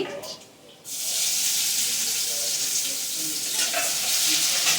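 Cumin seeds and green chili dropped into hot oil for a sabudana khichdi, bursting into a loud, close, continuous sizzle after a quieter opening moment.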